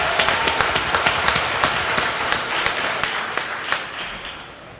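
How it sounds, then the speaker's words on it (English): An audience at a Los Angeles networking livestream event gives a round of applause, with fairly thin, scattered claps that keep an uneven rhythm and taper off slightly toward the end. "Can we get another round of applause for them?"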